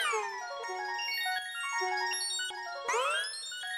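Bright synthesized bell tones chime in sequence, their pitch sliding and bending downward and upward between strikes, clean and unaccompanied.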